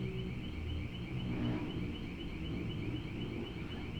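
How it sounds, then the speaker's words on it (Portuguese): An alarm sounds steadily in the background, with a repeating tone pulsing over a constant low noise for the whole stretch, fairly faint and with nobody speaking. "Então, tá rolando um alarme aqui de fundo aqui."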